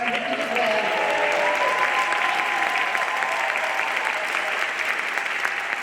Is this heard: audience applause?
yes